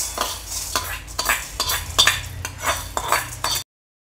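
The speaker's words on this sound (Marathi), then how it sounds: "हे मूग आपल्याला चांगले लालसर होईपर्यंत भाजून घ्यायचे आहे।" Moong beans being dry-roasted and stirred in a wok for a traditional Marathi dish, giving repeated scraping and rattling strokes of a spoon against the pan, close and fairly steady, with no talk.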